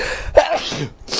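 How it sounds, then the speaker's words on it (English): A single close, loud sneeze bursts out in a broadcast studio, a sharp breathy explosion with a short aftersound. "was gonna sneeze there"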